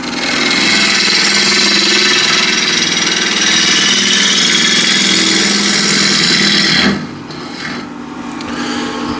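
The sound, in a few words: wood lathe rounding over a bowl's corner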